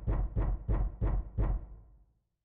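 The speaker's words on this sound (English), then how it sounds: "What the heck? Who is knocking?" Five heavy, evenly spaced knocks on a door in the video game 999, deep and booming, then a short fade into silence.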